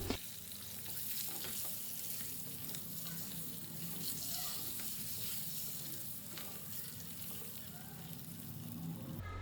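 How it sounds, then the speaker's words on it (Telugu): Steady crackling sizzle of boiled eggs frying in hot oil, continuous and even throughout, with faint occasional stirring scrapes and no speech. "ఇందులో ఘాట్లు పెట్టిన గుడ్లను వేసి బాగా ఫ్రై చేయాలి."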